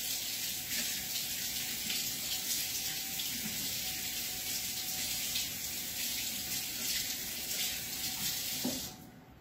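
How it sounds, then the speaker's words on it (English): Running tap water pours steadily over a food processor blade being rinsed in a kitchen sink, a continuous close splashing hiss that cuts off abruptly near the end. "you could just rinse this."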